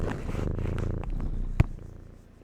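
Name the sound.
cat Marcel purring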